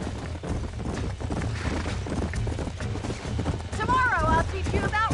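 Horses gallop in the video game Red Dead Redemption: a loud, rumbling drum of hooves thunders throughout, and a short high wavering cry rises over it near the end.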